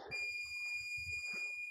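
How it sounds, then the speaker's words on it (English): A sharp electronic tone sounds and holds steadily as a warning signal, over faint background movement and thuds. "10-second warning bell"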